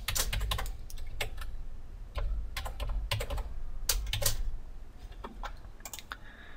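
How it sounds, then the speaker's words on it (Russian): A password is typed on a computer keyboard during an online account registration, with quick clusters of close, crisp keystrokes separated by brief pauses over low background hum. "Пишем пароль."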